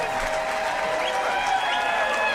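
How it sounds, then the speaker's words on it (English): Steady applause from a crowd at a public meeting on a Department of Justice report about the Louisville police, a continuous dense wash of clapping with raised voices and whistle-like cheers mixed in. "This applause is going off."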